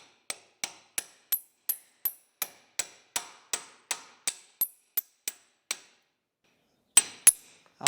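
A pin is hammered into the lift arm cylinder of an Allis Chalmers D17 tractor. About fifteen sharp metallic strikes ring out in a steady rhythm, then a short pause, then two more hits, with no talking.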